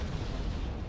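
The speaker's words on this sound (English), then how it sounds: "Now, decent explosion there." A dull, rumbling blast in the war strategy game Wargame Red Dragon, heavy and low, filling the brief moment without any voices.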